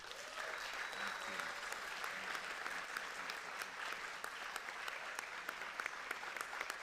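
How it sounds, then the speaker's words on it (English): Steady applause from the audience at a school board meeting, a dense patter of clapping that continues evenly throughout, heard from some distance. "give Mateo a big round of applause"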